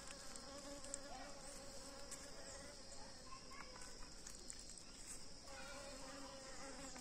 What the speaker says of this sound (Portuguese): Abelha.